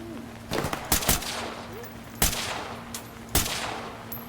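Several sharp gunshots ring out in the tactical shooter Ready or Not: a quick pair near the start, then single reports spaced apart, loud against a low background hum.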